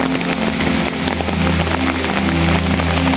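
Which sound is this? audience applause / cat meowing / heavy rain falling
heavy rain falling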